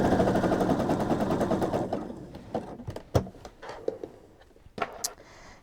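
A sewing machine rapidly stitches a button onto a headband in a fast mechanical rattle that stops partway through, followed by scattered clicks and handling knocks.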